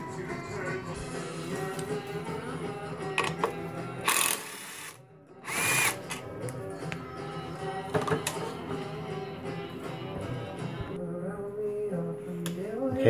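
A power drill backs out an M6 flange bolt holding the kickstarter during CVT removal, with whirring bursts over a busy workshop background and two sharp louder spurts midway.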